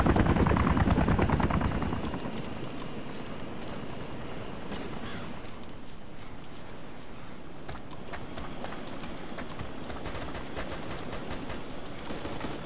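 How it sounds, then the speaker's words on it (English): A helicopter thrums loudly in the Arma 2 Wasteland game, its rotor chop starting heavy and near and then easing to a steady drone, while rapid bursts of gunfire crackle throughout. "he's shooting at the helicopter"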